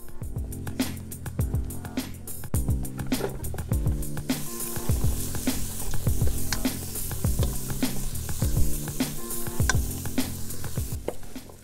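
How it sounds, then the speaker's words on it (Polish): Onions and garlic sizzle in hot butter in a pot, with a steady crackle broken by repeated scraping stirs of a spoon, while music plays softly behind. "Teraz będziemy podsmażać cebulę i czosnek na maśle"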